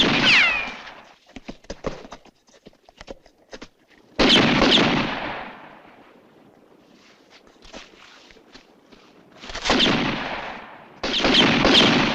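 Gunfire from a western film rings out in loud bursts, with sharp scattered shots early on and heavier sustained volleys later, broken by quieter gaps.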